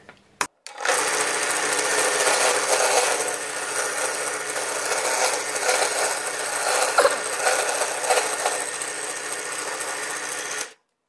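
A router bit plunges into wood on a drill press, turning at too low a speed: after a brief click, a loud, steady, rough grinding whir runs for about ten seconds before stopping abruptly.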